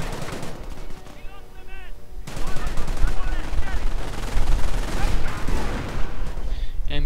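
Machine gun fire from a Company of Heroes battle rattles in bursts amid other gunfire and explosions, loud and dense throughout the stretch.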